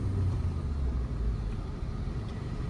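A car engine rumbles low and steady from inside the cabin during a beginner's driving lesson, with a continuous muffled drone and no distinct gear change standing out.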